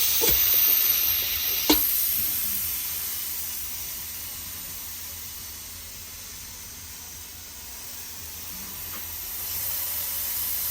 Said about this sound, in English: You'll see how much pressure is being released on here, which is pretty much the steam.